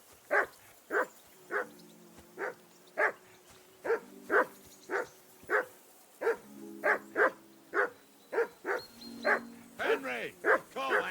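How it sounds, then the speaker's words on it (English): A dog in the video game Kingdom Come Deliverance 2 barks loudly and close, a steady run of about twenty sharp barks at a quick, regular pace, with no talk over them. "Henry, call that dog to heel."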